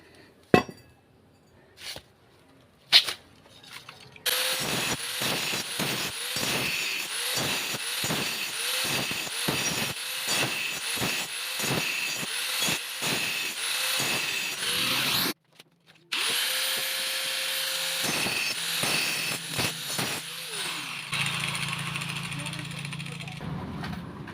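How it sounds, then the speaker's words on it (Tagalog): An angle grinder cuts metal pieces for a used-oil stove in long, loud, continuous runs with a brief stop midway, after a few sharp clanks at the start; no speech over it. "Gagrinder natin. Isa pang grinder."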